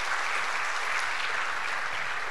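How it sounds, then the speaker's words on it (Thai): An audience applauding a lecturer at a seminar on the world and Thai economy and stock markets, a dense, steady burst of many hands clapping with no voices. "ขอเสียงปรบมือให้กับอาจารย์อีกครั้งนึงด้วยค่ะ"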